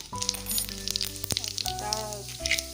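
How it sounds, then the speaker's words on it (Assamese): Cumin seeds sizzling in leftover oil from frying paneer, a soft crackling hiss at low level with small pops and a brief clatter, under someone talking quietly. "পনীৰ ভজা তেলখিনিতে মই দিম কেইটামান জিৰা"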